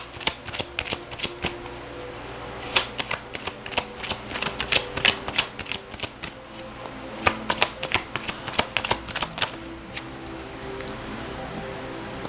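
Tarot cards shuffled and drawn at close range, a long run of soft riffling slaps and flicks in an irregular rhythm, fairly quiet with no talk.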